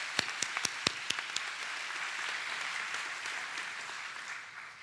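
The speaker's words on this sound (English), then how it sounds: "That's an applause line." Audience applause at a college commencement ceremony for the graduating class of 2023: a few sharp separate claps at first, then a sustained wash of clapping from a crowd at moderate distance.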